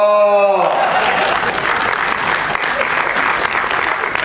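Crowd at a Hindi comic poetry gathering breaks into loud sustained applause, a thick continuous wash of clapping that holds steady after a brief voiced note at the start.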